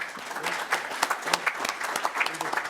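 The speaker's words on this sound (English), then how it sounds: "how about a round of applause for our speakers?" An audience claps for the speakers after a roundtable discussion session, moderately loud, with individual claps standing out as the applause gradually thins toward the end.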